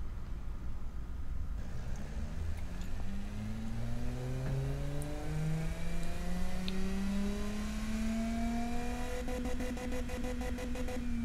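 A simulated car engine in the Automation car tycoon game revs steadily upward through several gear changes, a smooth, loud, continuous mechanical drone that rises in pitch and resets, heard alone with no talk.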